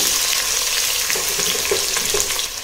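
Whole biryani spices and onions fry in hot oil, a loud, close, steady sizzle that crackles throughout with a few soft stirring knocks.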